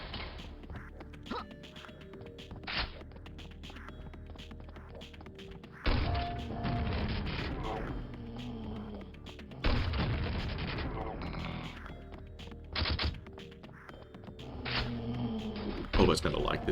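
Grenade launcher blasts in the video game Quake land as heavy, booming explosions at intervals, several loud bursts separated by quieter stretches of game ambience with low thumps in between.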